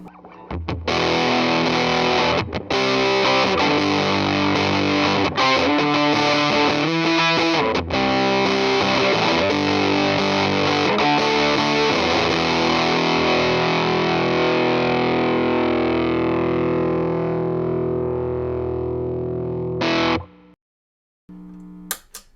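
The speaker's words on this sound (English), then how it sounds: "on to the Keeley Fuzz Bender" An electric guitar through a Keeley Fuzz Bender pedal plays loud, fuzz-drenched sustained chords and riffs for about twenty seconds, then cuts off abruptly before a brief final strum.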